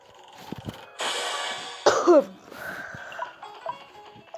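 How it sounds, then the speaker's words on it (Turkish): A sick person coughs several times in short, raspy bursts close by, with a brief throat-clearing sound between quieter moments. "Arkadaşlar öksürüyorum da."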